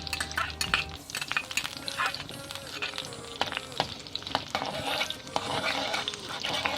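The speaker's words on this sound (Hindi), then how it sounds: "ऑयल गर्म हो चुका है। इसके अंदर मैं सबसे पहले लहसुन डालूँगी।" Crushed garlic sizzles steadily in hot oil for a fish curry, a close, continuous frying crackle with scattered sharp pops and occasional utensil scrapes.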